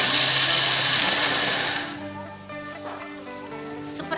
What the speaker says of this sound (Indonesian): Blender secara kasar saja ya,